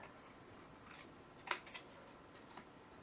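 Scissors cut card for a small gift box, a couple of crisp close snips in quick succession, then a fainter one a moment later. They stand out against a quiet room.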